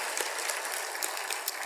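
A church congregation claps rapidly and steadily, many hands together in a dense, loud patter of applause heard close up.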